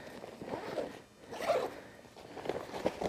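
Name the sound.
zipping up a portable enclosure bag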